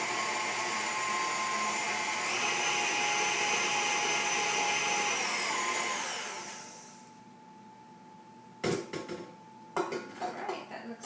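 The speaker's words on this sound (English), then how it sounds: "place the cake in the mixer, or if you're using a whisk, go ahead and make sure everything is mixed" Electric mixer beating cake batter until smooth, a bright steady whine that fades out after about six seconds, followed by a few clattering knocks of utensils against the bowl.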